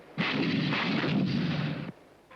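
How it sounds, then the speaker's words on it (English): A soldier's disposable anti-tank missile fired at close range: a single loud, sharp launch blast that becomes a steady roaring rush lasting under two seconds, then cuts off abruptly. "Even the individual soldier has a disposable anti-tank missile for close ranges."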